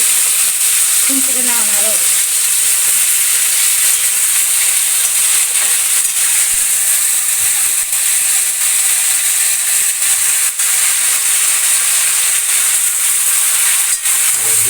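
Food fries in a pan with tomato sauce while a pickle is being made, giving a loud, steady sizzle and hiss that continues throughout, with a voice speaking briefly near the start.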